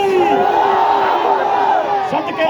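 A large crowd at a Rabi al-Awwal religious gathering answers a Takbir slogan with a loud, sustained mass shout, many voices rising together in a chanting roar that dips briefly near the end.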